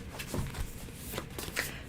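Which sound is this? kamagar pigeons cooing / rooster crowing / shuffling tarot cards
shuffling tarot cards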